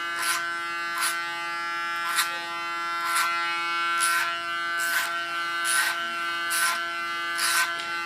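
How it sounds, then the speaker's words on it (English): Electric hair clipper cutting short hair clipper-over-comb near the chin line, a steady close buzz with repeated brief rasping bursts as it bites through hair roughly once a second. "clipper over comb, because then I can control it better than when I work with a clipper comb on the clipper."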